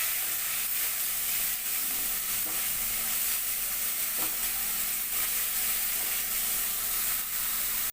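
Chilli powder, salt and spices sizzle and fry in a pan, a steady close hiss running unbroken with occasional faint scrapes of stirring.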